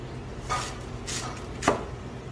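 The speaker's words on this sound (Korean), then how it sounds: "그래서 무를 오늘 써는데 냉면김치는 일단" Three crisp knife cuts through a Korean radish weighing roughly 1.5 to 2 kg, sliced into 1.5–2 cm thick pieces for naengmyeon kimchi, spaced about half a second apart over a low steady room hum.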